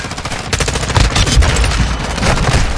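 Loud, dense automatic gunfire in Modern Warfare 2, rapid overlapping shots and bursts with occasional heavier booms, close and continuous throughout.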